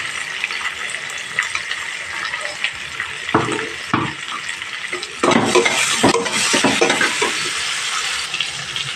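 Tomato simmers in a boiling pan for an egg omelette curry with a bubbling sizzle, and louder stirring scrapes and splashy bursts join midway, no voices.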